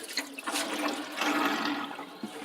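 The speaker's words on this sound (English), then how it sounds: "So, I'm going to rinse these off again one more time." Water runs and splashes into a kitchen sink while dirt is rinsed off produce, a steady close rushing stream with no talking over it.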